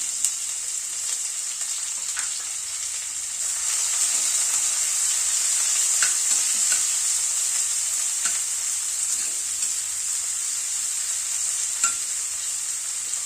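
Chopped onion, one large onion added to oil after asafoetida, fries over a medium gas flame with a steady bright sizzle, and a spoon scrapes and clicks now and then as it is stirred.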